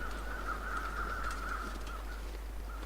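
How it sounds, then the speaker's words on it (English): Crows in The Long Dark video game give a faint, drawn-out cawing call from a distance, over a low constant wind-like rumble. "I can hear crows."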